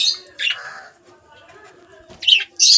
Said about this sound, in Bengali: এরা ডাকাডাকি করছে